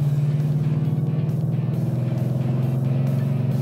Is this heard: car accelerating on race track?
yes